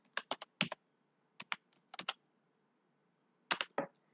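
Fingers tap a computer keyboard while a Scratch program is being built, with quick clusters of crisp, close keystrokes separated by short quiet pauses.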